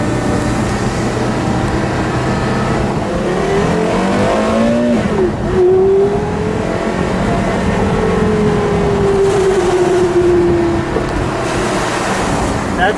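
A yellow 2005 Porsche Carrera GT engine revs and accelerates hard, its pitch climbing in rising sweeps through gear changes over a steady roar of road and wind noise, with no talking.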